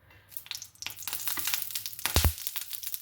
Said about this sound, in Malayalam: ഈ പാനിലേക്ക് ഒരു സ്പൂൺ നെയ്യ് ആഡ് ചെയ്ത് കൊടുക്കുകയാണ്